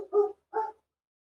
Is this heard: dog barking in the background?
yes